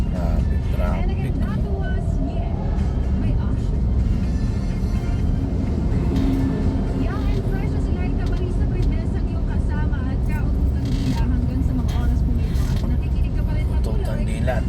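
Dense road traffic in Metro Manila, with a steady roar of car and bus engines close by that fills the whole stretch, and people talking over it.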